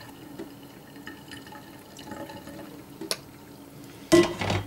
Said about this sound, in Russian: Уже вода выходит через жаберные отверстия.